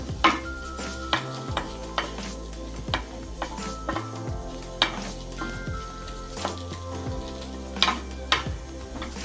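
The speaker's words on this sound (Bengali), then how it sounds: "এটা একটু জাস্ট 1 মিনিট একটু নেড়ে নেব" Coriander leaves and stems stirred in a pan, repeated spatula scrapes and knocks against the pan over a low sizzle, close and fairly quiet, without talk.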